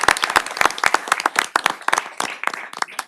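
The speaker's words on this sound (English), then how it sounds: "a round of applause for them as a group and as an office." A council meeting audience in Victoria, Texas, gives a round of applause: several seconds of dense, close hand-clapping with sharp individual claps standing out, no talking over it.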